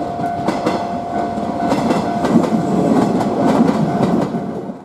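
A 117 series electric train runs on the Yamatoji Line, a steady near rumble with rhythmic clickety-clack of wheels over rail joints throughout, no voices.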